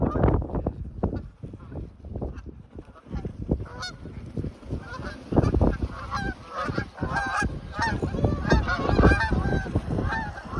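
A flock of geese honking loudly and repeatedly, overlapping calls close by with constant rustling in the background.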